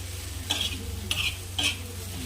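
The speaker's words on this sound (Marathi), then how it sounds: "आता याला छान असं मिक्स करून घ्यायचं आहे" Spicy tomato thecha stirred in an iron pan: three distinct scraping strokes at a steady pace over a continuous low sizzle and hum, close and fairly clear, with no voices.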